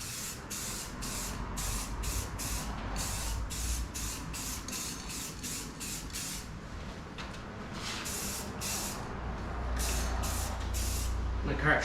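Spray gun coating a panel on a 1995 Chevrolet Silverado, a steady hiss pulsing in repeated short bursts over a low compressor rumble, close and continuous.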